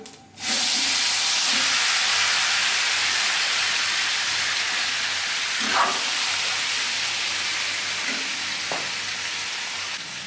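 Marinated morola fish drops into hot oil seasoned with black cumin, bursting into a loud, sustained sizzle that stays dense and close, with an occasional stir or scrape and no talking.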